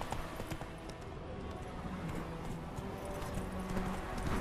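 A horse's hooves clip-clop steadily over terrain in The Witcher III, a continuous close rhythm of hoofbeats under game ambience with faint background sound.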